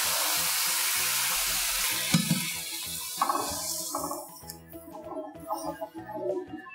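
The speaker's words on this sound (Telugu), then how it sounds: "ఇందులో పాలు పోసుకుందాం." Milk pours into golden-fried poha in a hot pan, a steady sizzling hiss that fades into bubbling and stirring sounds as the liquid settles.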